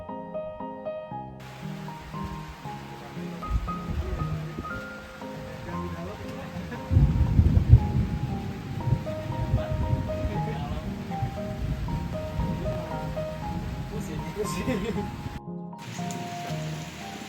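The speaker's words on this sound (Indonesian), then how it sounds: "Kita terabas guys, kita terabas hujan-hujanan." Rain falls during a mountain hike on Gunung Pancar, a steady hiss of drops on leaves and surfaces that swells louder midway, with people talking and background music over it.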